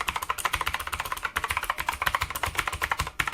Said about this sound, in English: the normal keys